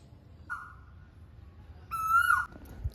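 An Asian koel calls outdoors at a village farm home, two clear rising whistled notes a second or so apart, the second louder, over quiet background noise.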